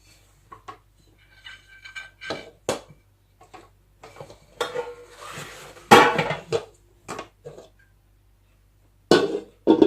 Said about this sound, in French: Donc on va le démouler.